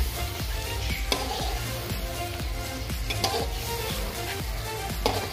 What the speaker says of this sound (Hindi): अब हम चिकन को मसाले में अच्छे से भून लेंगे।